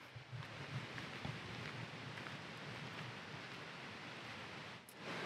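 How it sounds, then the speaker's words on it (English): Fast, high water pours over falls at a campground in Ontario's Bon Echo area after heavy rain. It makes a steady, dense, close roar that holds level throughout, with no voices. "you can see behind me and probably hear that these falls are quite aggressive. The water is moving very quickly."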